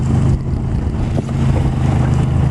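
A boat's outboard engine is throttled up while crawling along during race committee duty on the water, giving a steady, loud low-pitched drone that stays close and continuous throughout with no talking.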